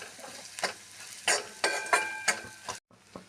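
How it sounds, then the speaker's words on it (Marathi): Coarsely crushed peanuts stirred through hot oil in a pan, giving a few short scraping, rattling strokes with a light sizzle beneath, close by and with no voices. "आता यामध्ये मी ही शेंगदाण्याची भरड यामध्ये घालत आहे छान असं मिक्स करून घ्यायचं आहे"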